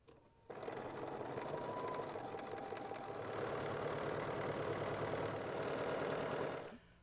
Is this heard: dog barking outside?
no